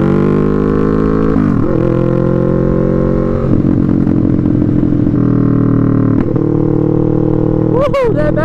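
A motorcycle ridden along a road: the engine drones loud and close as it shifts through revs, then sharp popping backfire bursts crackle near the end.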